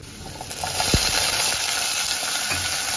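Peas tipped into a pan of browned fried potatoes, bringing a loud steady sizzle and hiss with a sharp thump as they land, close by.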